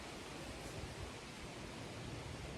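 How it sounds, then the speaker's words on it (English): Steady broadband rumble of wind buffeting a microphone outdoors, constant and fairly loud across the whole stretch with no voice over it. "I hope the wind is not making too much noise here"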